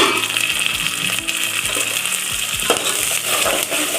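Whole spices such as cardamom, cinnamon, star anise, cloves and marathi moggu frying in oil in a pan for chicken biryani, a steady close sizzle with occasional stirring scrapes and clinks, no talk.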